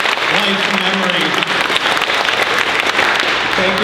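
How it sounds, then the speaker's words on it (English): A room full of people at the White Castle Cravers Hall of Fame induction breaks into strong, sustained applause, close and loud, with a voice briefly speaking over it at the start and end. "Can I get a round of applause for everyone in this room right now?"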